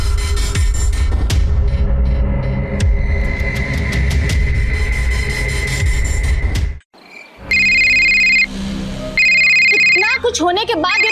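A phone ringtone plays as a loud, repeating electronic tone after a stretch of dramatic music, then breaks off briefly and resumes.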